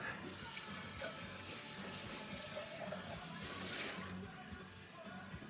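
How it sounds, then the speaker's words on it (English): A kitchen sink tap runs steadily while a cup is rinsed out, a continuous soft rush of water with faint splashing, fairly quiet and close, with no voices. "I'm going to rinse this out. Just walk over to the sink, get that done."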